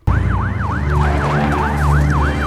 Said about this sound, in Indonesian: Tak lama berselang terdengar suara siren polisi.